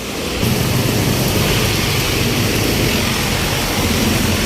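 Loud, dense rainfall from Typhoon Carina pours steadily throughout, a constant heavy roar of water with no pauses.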